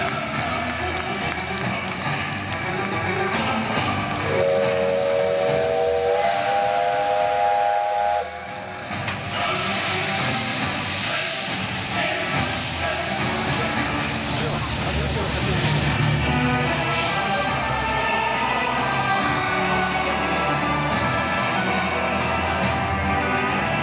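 A preserved steam locomotive from the Northern Railway at a steam locomotive parade in Moscow gives a loud, steady whistle blast lasting a few seconds, while steam hisses constantly and a voice talks over it.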